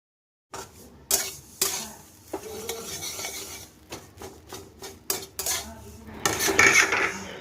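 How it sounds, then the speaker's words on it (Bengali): Roasted semolina is stirred in a hot wok after water is added: a spatula scrapes and knocks against the pan in irregular strokes, with a soft sizzle swelling near the end. "সুজিটা বেশ ভালো ভাজা হয়ে গেছে, এবার আমি পুরো জল দিয়ে দিলাম সুজিটার মধ্যে"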